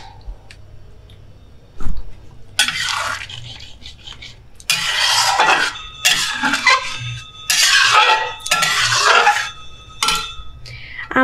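Egg tadka being stirred and cooked down in a pan, with repeated bursts of spatula scraping and clattering against the metal between brief quieter pauses, close and fairly loud.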